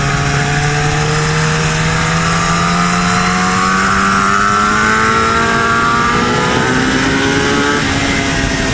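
A supersport motorcycle engine revving hard: loud, close and continuous, its tone climbing steadily as the throttle is held open.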